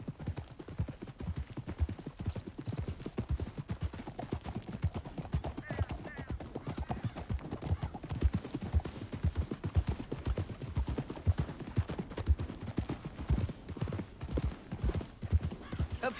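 Horse hooves gallop in a steady, rapid clip-clop rhythm throughout in the video game Red Dead Redemption 2, dense and continuous with a faint rumble underneath and no break.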